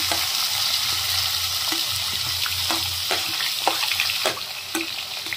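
Onion and cumin frying in hot oil for a fish curry, with a steady close sizzle and scattered crackles and pops from spoon stirring, no voices.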